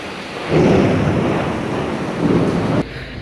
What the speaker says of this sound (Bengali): ঝড় বৃষ্টির মাঝেও চলতেছে অফিসে যাত্রা